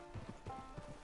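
Horse hooves clip-clop at a steady walking rhythm in Red Dead Redemption 2, each step a soft thud, fairly close, over quiet game ambience.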